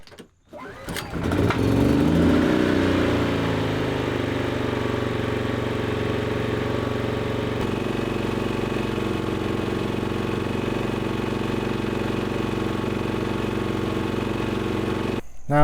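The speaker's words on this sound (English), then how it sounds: "Turn it on to run, and we'll crank it manually and see if it'll go" A portable off-grid generator is cranked by hand, catches within a couple of seconds and settles into a steady, loud, continuous engine drone close by, running until it cuts off at the end.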